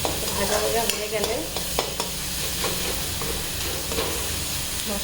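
Spice masala with coriander powder and salt sizzles and fries steadily in a pan for daal makhni, a continuous loud hiss with occasional stirring scrapes, close and without talk.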